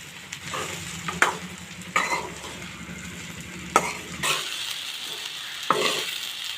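Ragi flour dumplings are stirred with tempering in a hot pan, giving a soft continuous sizzle broken by several sharp scraping strokes of the spoon against the pan, close up and without talk.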